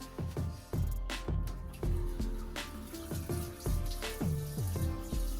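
Water runs from a newly installed tap fed by a 13 kW Camec hot water unit in a converted Rosa bus, splashing and gurgling in an irregular, close, fairly loud stream without speech.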